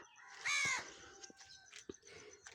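A crow gives one loud, harsh caw up close, then fainter knocks and small scattered sounds follow in a quiet outdoor spot with no talk.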